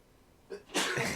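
A single person's sneeze, a short breathy intake followed by a loud, sharp burst close to the microphone, with no talk.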